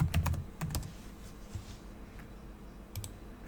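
Keystrokes on a computer keyboard as a password is entered at an Ubuntu Linux terminal: a quick cluster of clicks near the start, a few scattered taps around the middle, then a final pair of taps, close and fairly quiet.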